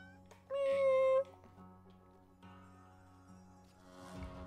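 A cat meowing in the platform video game YesterMorrow: one clear, drawn-out meow over soft game music, followed by quieter tones.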